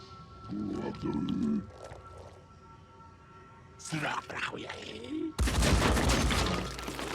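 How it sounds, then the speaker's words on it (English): Gunfire exchange in the tactical video game Phoenix Point, a burst of sharp shots and a dense rattling volley at the end, mixed with game sounds and someone talking. "There's the return fire."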